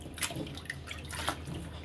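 Salty preserved vegetables being rinsed in water, with soft splashing and trickling sounds close by, a few brief louder sloshes standing out over a steady watery background.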